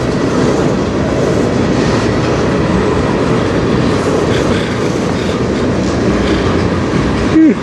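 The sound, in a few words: CN freight train passing on Strathroy Subdivision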